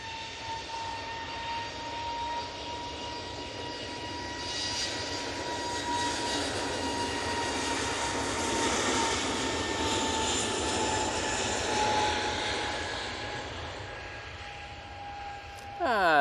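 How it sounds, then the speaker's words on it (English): An easyJet Airbus A320neo takes off for Lisbon, its jet roar building to a long sustained rumble with a steady whine, heard from a distance at an airport. "And this is Easyjet's off to Lisbon."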